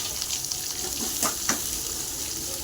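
Onion fries in oil with mustard seeds and dried chillies, a steady, moderately loud hiss of sizzling with a few soft stirring clicks in the middle.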